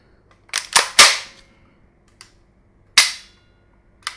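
Several sharp plastic snaps and clicks from the trigger of an ASG/KWA MP9A1 gas blowback airsoft gun, a quick cluster of three followed by a few isolated clicks, close and crisp in a quiet room.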